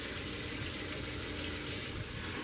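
Cooked spaghetti drains in a kitchen sink, a steady hissing rush of water running without a break, close and even in level.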